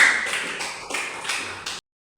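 Students in a classroom applaud together, a short burst of mixed clapping that swells in waves and then stops abruptly after under two seconds.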